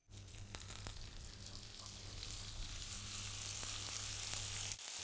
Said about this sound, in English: And now you put them in the pan with the sage leaves facing down first.